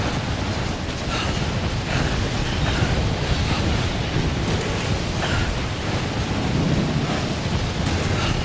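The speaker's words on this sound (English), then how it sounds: "They weren't kidding about the storm." A loud thunderstorm in the video game Death Stranding, with dense continuous rain roar and deep rolling thunder rumbles filling the whole stretch, no talk.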